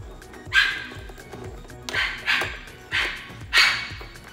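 Dogs bark four times at uneven intervals, moderately close, with short quiet gaps between the barks.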